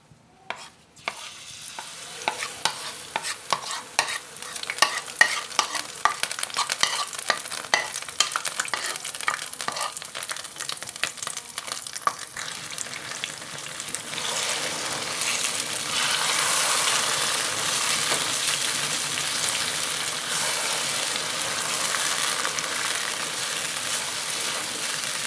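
Semolina stirred and roasting in a pan of melted ghee for halwa, with steady scraping strokes early on giving way to a dense, continuous sizzle that swells and holds loud to the end.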